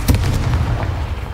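A Confringo spell blast in the Hogwarts Legacy video game: a loud, sharp explosive burst at the start, followed by a rolling, crackling boom that sustains and decays over about a second.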